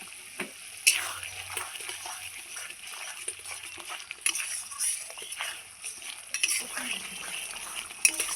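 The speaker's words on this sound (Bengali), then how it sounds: "এটা আমি খুব সুন্দর করে কষিয়ে নেব। যতক্ষণ না তেল ছাড়ছে ততক্ষণ অবধি আমি খুব সুন্দর করে কষিয়ে নিব।" Spices with salt, turmeric and garlic frying in oil for mustard katla fish, with a steady soft sizzle and intermittent scraping stirs, a few sharper utensil knocks near the start and end.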